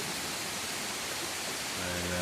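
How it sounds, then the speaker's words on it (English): Small jungle stream rushing down through greenery toward a main creek, a steady broadband wash of flowing water close by, continuous and fairly loud, with a faint low tone entering near the end. "comes rushing down from a little stream here and makes its way down to the main stream through all the greenery."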